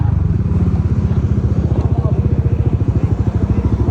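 A motorcycle fitted with a loud, noise-polluting muffler idles nearby at a roadside traffic stop in Marikina, its exhaust thumping in a fast, steady, even pulse that is loud and close throughout.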